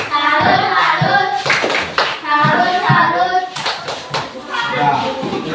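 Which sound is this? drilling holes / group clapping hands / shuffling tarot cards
group clapping hands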